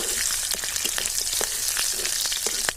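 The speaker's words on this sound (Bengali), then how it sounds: "দুটো কাঁচা লঙ্কা আর পাঁচ পোয়া রসুন ফোড়নগুলো একটু এক মিনিট মতো একটু গরম তেলে মেলে নেব" Green chilies and garlic tempering in hot oil, a bright crackling sizzle with fast spitting pops scattered throughout, steady and near.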